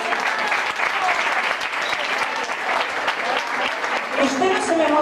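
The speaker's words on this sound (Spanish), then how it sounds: "Así que, por favor, un aplauso para ella." Studio audience applause on a Spanish-language TV show, a dense, steady wave of clapping lasting several seconds with faint voices underneath.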